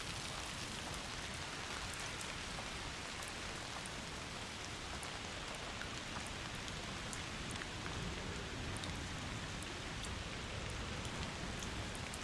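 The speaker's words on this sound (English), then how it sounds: "Oh, it's stormy." Steady, dense rain pours without a break during a storm in A Plague Tale: Requiem, a close, even hiss of drops striking surfaces. No voices or thunder stand out.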